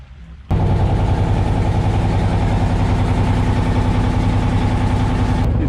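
A small fishing boat's noisy engine runs loud and steady close by, a dense unbroken drone that starts abruptly after a brief quiet moment and carries on to the end.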